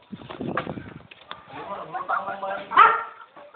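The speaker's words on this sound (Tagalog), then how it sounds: "Ang aso." A dog barks a few times, mixed in with people talking nearby in a flooded village.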